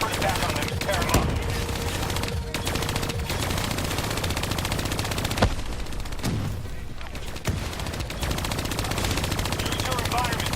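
Sustained automatic gunfire fills a Call of Duty Black Ops 3 campaign battle, with dense overlapping bursts and explosions running continuously under in-game voices and background music.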